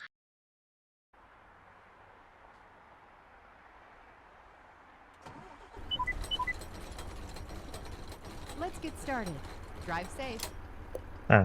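A truck drives in the mobile game Truck Simulator Ultimate. Silence gives way to a steady engine drone that grows louder and busier, with someone talking over it.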